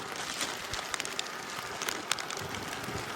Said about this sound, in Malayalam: മഴ ഇപ്പം കുറച്ചും കൂടി നല്ലോണം കൂടുന്നുണ്ട്.